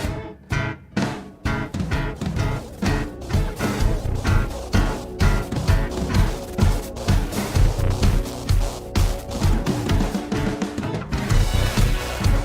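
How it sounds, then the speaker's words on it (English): Full music mix processed through the Diffuser mode of the Transmutator transition and blend VST plugin, which smears and blends the spectrum. A dense, steady beat-driven track plays loud throughout with no talking. "It applies a sort of a smearing blend effect and it sounds like this."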